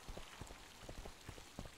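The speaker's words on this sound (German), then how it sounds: "Regen, Regenwetter." Rain falling in the video game The Witcher 2 makes a faint, steady patter with soft droplet taps over a short stretch.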